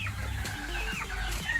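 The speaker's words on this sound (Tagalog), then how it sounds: "Time ng mga manok natin na kumain ng tinadtad na repolyo" Chickens cluck and murmur in a steady low chatter, close by, with a few sharper calls rising over the flock noise, as they are fed chopped cabbage.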